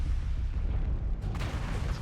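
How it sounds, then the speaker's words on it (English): Anti-missile system firing in the MechWarrior Online video game, a dense continuous rumbling barrage of rapid low booms with a brief sharper burst partway through, loud and close, no voices. "Tons of AMS going off here"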